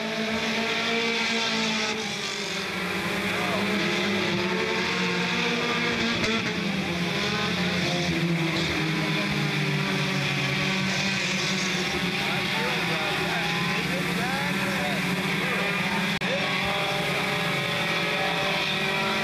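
Front-wheel-drive race cars at Smoky Mountain Raceway make a constant loud engine roar, with pitches rising and falling as the cars accelerate and pass, while a commentator talks over it.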